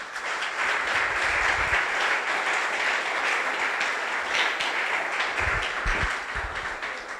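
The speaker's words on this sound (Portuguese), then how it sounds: "Aplauda Jesus." Congregation in a church service applauding together, a steady dense wash of clapping hands lasting throughout, fairly close and full, with a few louder individual claps near the end.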